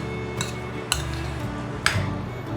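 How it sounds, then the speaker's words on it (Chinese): A utensil stirring scrambled egg and tapioca starch in a large mixing bowl, giving three light clinks and taps against the bowl over a soft background hum, with no talking. "把所有食材拌匀"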